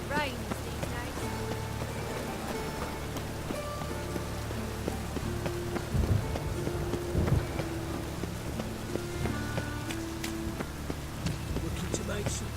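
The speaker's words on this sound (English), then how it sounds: "It only ever rains these days." Rain falls steadily in The Witcher 3: Wild Hunt, a soft continuous patter beneath game music, with a few heavier rumbles near the middle.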